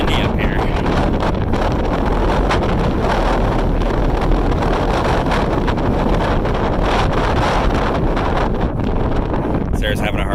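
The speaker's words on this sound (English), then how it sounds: "So, it's got a little windy up here." Strong wind buffets a microphone high up outdoors, a constant loud roar with gusty rumbling throughout and faint voices underneath.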